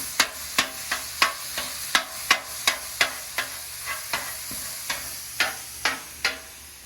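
Chopped cheese slider meat with garlic and seasoning being chopped on a hot cooking surface, a steady run of about twenty sharp, close scraping chops over a continuous sizzle, with no talking.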